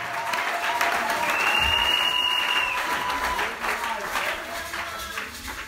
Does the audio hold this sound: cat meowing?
no